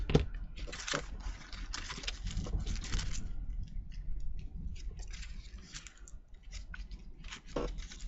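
Scissors snipping paper during a craft make, several quiet close cuts and rustles scattered through the stretch.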